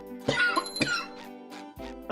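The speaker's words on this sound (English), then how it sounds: "Sorry if I cough and I'm still sniffly occasionally." A few harsh coughs close by, two strong bursts followed by lighter ones, with no talking.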